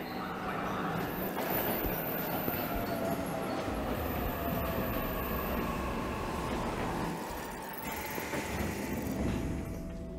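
Trains rumble steadily past in 13 Sentinels: Aegis Rim, a continuous rolling rail noise with wheel clatter that stays loud and even for about ten seconds with no talking.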